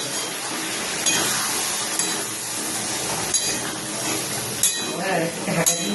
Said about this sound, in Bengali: এখানে আমি একটু জল গরম করে দিচ্ছি। এই গরম জল দেবো,